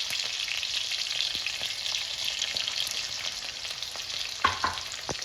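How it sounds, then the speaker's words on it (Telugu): Green chilies frying in a pan for uggani bajji, a soft continuous hiss of hot oil with a few sharp pops and crackles near the end, close and alone. "పచ్చిమిర్చిని వేయించుకోవాలి"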